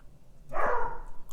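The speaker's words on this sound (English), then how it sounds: "if you hear my dog in the background" A dog barking in the background indoors, a single muffled bark followed by a brief whimpering trail, moderately loud with no talk over it.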